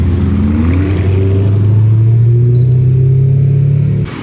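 A Lamborghini Urus on a Miami street gives a loud, close, deep engine drone that climbs steadily in pitch for about four seconds before cutting away.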